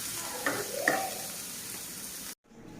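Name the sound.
frying chilies in mustard oil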